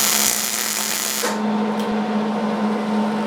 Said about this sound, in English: here's the setup to get this welded to the top of our channel locks. And I'm just going to tack it